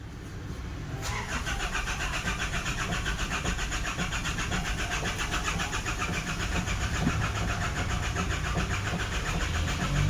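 An Isuzu Trooper with an oil pressure sensor fault cranks continuously without catching, a loud, rapid, even starter-motor churn close by, after a brief quiet moment at the start.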